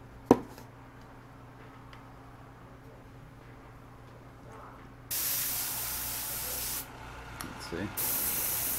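An airbrush sprays paint onto a junk food logo model in two sustained hissing bursts with a short pause between, close and fairly loud, after a quiet stretch with a brief spoken word.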